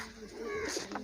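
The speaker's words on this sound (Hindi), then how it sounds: "ये बाजी वाले सारे कबूतर है" Domestic flying pigeons kept at a mini zoo coo softly in a brief burst, faint and partly buried under people talking nearby.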